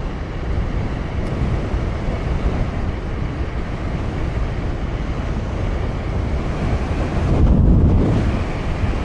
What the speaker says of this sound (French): Ouais, il y a beaucoup de vent.